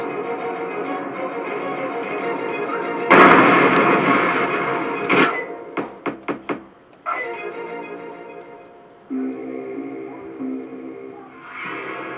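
Loud, booming blasts from the video game Turok 2: Seeds of Evil burst out one after another, followed by a quick run of sharp cracks and a rumbling, noisy game soundtrack.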